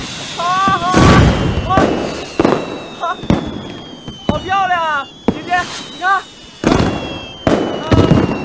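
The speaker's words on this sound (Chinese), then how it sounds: "我给你放烟花吧。" Fireworks crack and boom in loud, close bursts repeated every second or so, while voices and music run alongside them.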